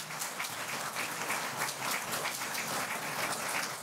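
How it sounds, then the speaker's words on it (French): Loud, sustained applause from the audience at a panel discussion, dense and even throughout with crisp individual claps and no talking. "Vous pouvez l'applaudir."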